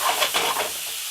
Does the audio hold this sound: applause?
no